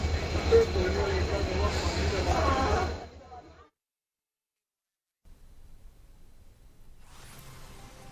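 A train at Raebareli railway station: a loud, steady rumble with rail noise fills the first three seconds, then cuts to near silence before softer, distant rolling noise returns.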